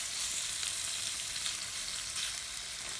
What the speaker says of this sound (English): I'm just going to add a tiny bit more oil, just on that bit of pan there, because that is I'm going to cook the prawns